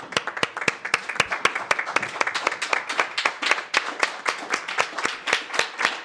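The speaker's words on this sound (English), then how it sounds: "let's give a round of applause" A small audience at a Black History Month celebration claps in a steady burst of sharp, closely spaced handclaps that stays at an even level and continues without a break.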